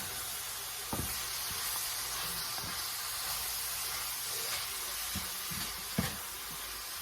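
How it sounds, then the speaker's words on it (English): Chili ingredients being stirred in a hot pot, with a steady bright sizzle and hiss throughout, broken by a few soft knocks and scrapes from the spoon. "give all this a stir"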